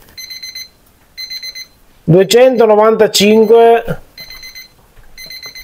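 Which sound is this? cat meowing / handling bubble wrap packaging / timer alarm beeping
timer alarm beeping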